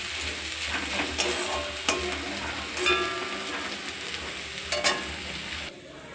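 A vegetable curry with peanuts is stirred in a pan over steady sizzling, with several sharp scraping strokes standing out close by. No one speaks.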